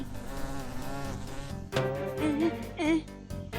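A cartoon fly in the animated Shiva series gives a continuous, wavering buzz that rises and dips in pitch, close and prominent over a musical background.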